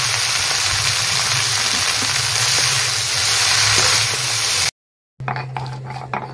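Fenugreek greens, bottle gourd leaves and chopped coriander frying in a pan, a loud steady sizzle that cuts off abruptly, then a lower hum with faint clatter.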